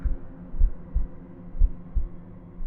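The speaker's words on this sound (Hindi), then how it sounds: "दिल की धड़कन तेज हो गई थी।" A heartbeat sound effect in a Hindi horror audiobook thumps low and steady in a slow paired rhythm of about four beats, dull and close, with no talking.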